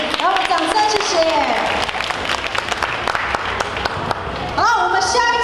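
Steady applause from the crowd at the 2015 DFC award ceremony, clapping running throughout while an amplified host talks over the beginning and end.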